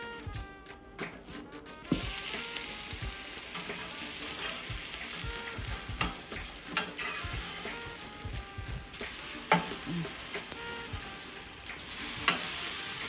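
Slices of Italian bread dipped in a milk and flaxseed mixture, frying as French toast in a pan, give a continuous close sizzle with scattered pops and crackles, alone without talk.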